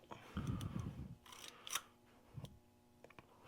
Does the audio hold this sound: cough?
no